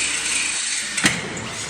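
A power drill whirs with a harsh, high grinding tone, interrupted by a brief sharp snap as the drill bit breaks partway through before the motor keeps running.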